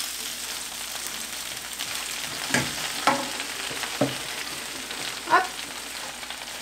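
Spinach hits a hot pan with garlic, setting off a steady sizzle and crackle, with a few louder stirring bumps and hisses as leaves go in a little at a time; a voice speaks briefly.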